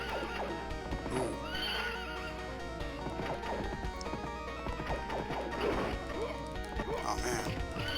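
A horse in a video game whinnies and clops its hooves amid busy game effects, with crashes and a dog barking in the mix and a voice talking over the steady background.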